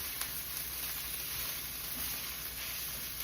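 Steady, soft sizzling of Impossible taco filling frying in a pan, a continuous crackling hiss at low volume with no voices.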